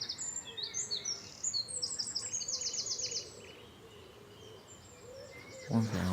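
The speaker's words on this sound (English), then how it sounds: "More wrens are singing." Wrens singing outdoors, with bright rapid trilling phrases repeated over the first few seconds and quieter chirps after, set against a steady background rumble.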